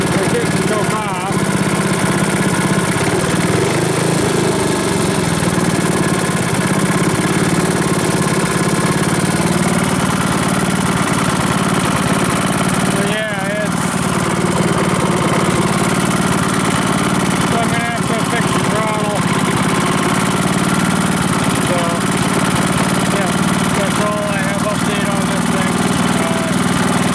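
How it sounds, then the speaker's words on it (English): Small engine on a water pump rig sits barely idling with a seized throttle cable, a steady low rumble running loud and unbroken throughout, with a few faint sounds layered over the top. "The throttle cable is seized. I have it on a 1-click on stroke, and it's just barely idling."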